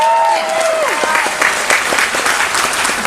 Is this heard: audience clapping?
yes